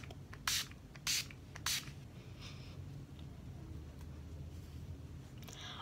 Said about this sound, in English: then we're gonna set our face with the Urban Decay All Nighter Makeup Setting Spray